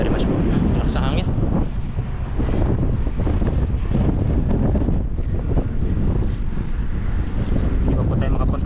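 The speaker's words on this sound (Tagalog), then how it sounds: "Malakas ang hangin." Strong wind buffets the microphone outdoors on a shore where clams are gathered, a loud, constant, rumbling roar with gusty fluctuations throughout.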